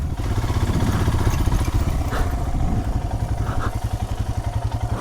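A Royal Enfield Himalayan motorcycle ridden along a sand trail at steady throttle, its single-cylinder engine thumping in a fast, even pulse, loud and close throughout with no voices.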